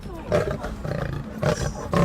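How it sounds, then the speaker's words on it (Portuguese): Two lions feeding close by let out deep, rough growling roars in several bursts, loud and near, with faint voices in the background. "Gente, olha aqui, bem na nossa frente, 2 leões."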